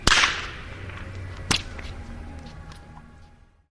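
A loud outdoor whip crack in a town street, followed by a short slap-back echo off a church and a movie theater and a second sharp crack, then a long, quiet tail of reverberation fading out.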